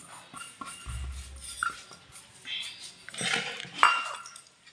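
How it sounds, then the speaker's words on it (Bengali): A spoon clinks and scrapes around a bowl while eggless cake batter is mixed with white oil, with irregular taps and stirring strokes and a low hum partway through. "সাদা তেল দিয়ে এটাকে একটু ভালো করে মিক্স করে"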